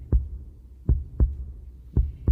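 Heartbeat sound effect: deep, close thumps land in a slightly uneven rhythm, about five beats in two and a half seconds, over a quiet background.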